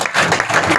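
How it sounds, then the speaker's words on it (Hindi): A church congregation clapping loudly during a worship service, a brief dense burst of many hands close by. "तालियां बजाएंगे"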